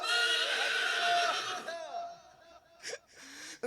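A mare neighs loudly and close at a village religious gathering with a shaman's trance dance, a long shrill whinny that fades into shorter breathy calls with brief noises at the end.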